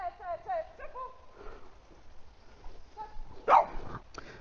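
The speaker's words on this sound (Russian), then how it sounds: "Я думал, просто он меня узнал и начал гавкать." A small bulldog barks in a forest, with a few short yapping barks near the start and a louder burst later, heard over a person's voice nearby.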